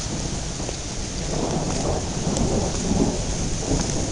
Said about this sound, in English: The sounds of nature surround me. I'm walking in the rain.